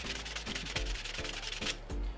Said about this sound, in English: just take some 220 or 320 grit sandpaper and just get rid of the extra shine until it's all smooth to the touch